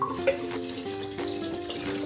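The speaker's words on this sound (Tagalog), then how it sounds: "Paglalagay ng tubig," Water pours steadily into a cooking pot holding beef for a Filipino nilagang baka stew, a continuous close splashing stream with faint metallic ringing, with no talking over it.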